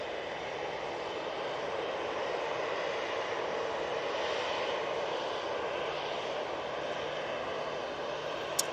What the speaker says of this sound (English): And there's the Arini just touching down, ATR 72.